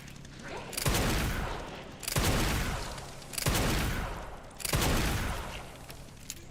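Four heavy gunshots in the video game Resident Evil Requiem, each a loud, booming blast with a long decaying tail, spaced roughly a second and a half apart and heard alone.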